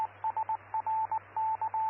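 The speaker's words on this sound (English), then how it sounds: "That's my weather station going off telling me getting 6 inches an hour for rate of rain." A home weather station alarm sounds off for a heavy rain rate of six inches an hour, giving a series of short, steady electronic beeps in an irregular rhythm of quick blips and longer tones over a low, steady hum.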